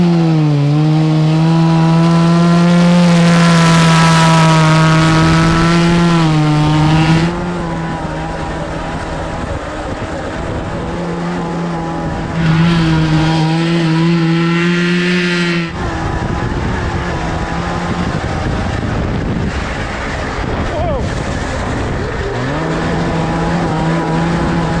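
A 2-stroke 440cc cross kart engine snarls loudly past, its high buzzing revs rising and falling through the run, up close and dominant with no talk over it.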